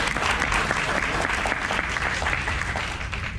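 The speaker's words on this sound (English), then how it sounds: "Let's give a round of applause." Steady applause from an audience at a business meeting, dense continuous clapping at an even level throughout with no talking.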